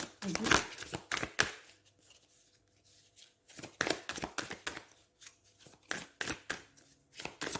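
Tarot cards shuffled and drawn by hand in bursts of crisp riffling and flicking, with quiet pauses between and a voice speaking softly beneath.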